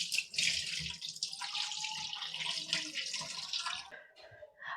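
Fish pieces gently washed by hand in a bowl of salted turmeric water, soft close splashing and sloshing that continues for a few seconds and then fades.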